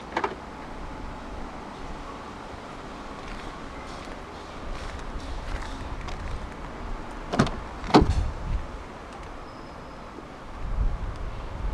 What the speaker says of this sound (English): to roll them back up together, just press and hold on the lock button